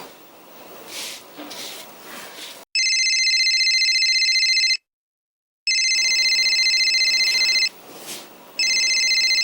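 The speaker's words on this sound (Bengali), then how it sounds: "তোমার ফোন বাজছে।" A telephone rings loudly in bursts of a bright electronic trill, cutting in, pausing briefly, then resuming, over a quiet indoor room.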